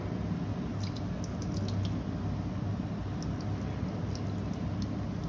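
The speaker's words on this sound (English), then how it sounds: "we will wash it under the running water, the simple tap water" Tap water runs steadily and close over a microscope slide, a continuous rushing splash with faint dripping and light trickles over it.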